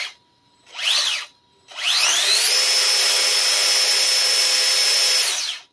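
A brushless electric motor drives a Nylint toy truck on a test run, giving a short high whine burst followed by a longer sustained whirring whine that rises in pitch and then cuts off, loud and close.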